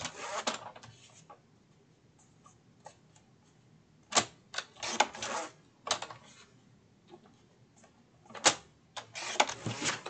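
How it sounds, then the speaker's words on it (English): A scrap of paper being cut into half-inch pieces, with scattered sharp snipping clicks in short irregular bursts separated by quiet pauses, close by and with no talking. "I'm going to take this scrap here and I'm going to cut 4 pieces at 1/2 inch"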